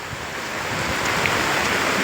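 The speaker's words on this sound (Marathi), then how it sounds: "गटरातनं पाणी जातंय बघा" Rainwater rushes through a street gutter during heavy rain, a steady, loud, broadband wash of flowing water with no pauses.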